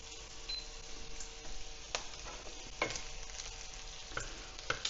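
Bacon crisps in a pan, a soft continuous sizzle with scattered small pops and the occasional scrape of stirring, fairly faint and with no talk.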